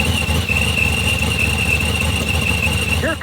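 A small block Pro Charger Chevy II race car drives past at a supercharged Chicagoland Superstocks event, with a loud, continuous engine roar and a steady high supercharger whine. Crowd noise sits underneath, and the sound stays strong for the whole clip.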